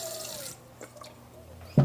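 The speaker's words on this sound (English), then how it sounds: "I'm just using a little bit of water in my hands to get this out of the bowl." Wet hands splash briefly in water while working sourdough out of a bowl, short faucet-like trickles and drips ending in a small louder splash.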